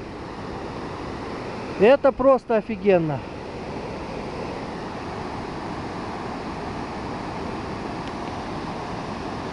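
Mountain waterfall in the Kegety gorge near Bishkek, a steady broadband roar of rushing water filling the whole clip, with someone speaking briefly over it near the start.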